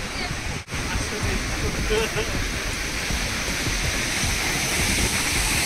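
Sea waves at a beach roar as a steady, dense wash of broadband noise that fills the whole stretch, loud and close, with wind-like hiss and no clear breaks.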